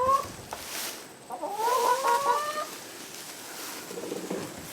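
Chickens in a homestead chicken house cluck and call, with several birds overlapping at close range against a steady background.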